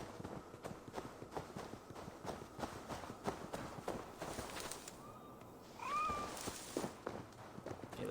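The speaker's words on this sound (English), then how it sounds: "Hello, kitty." A cat in Assassin's Creed Valhalla gives two short, rising meows midway through, layered over steady in-game footsteps and ambient rustling.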